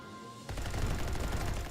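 Machine gun fire in the Delta Squad video game on Xbox One, a dense, loud continuous burst of rapid shots that starts abruptly after a brief quiet lead-in and keeps going without pause.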